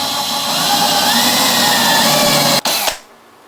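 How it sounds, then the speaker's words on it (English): A power drill runs steadily at high speed, loud and close, drilling a hole in a van, then cuts off abruptly near the end, leaving a quiet hum. "So let's drill the first hole."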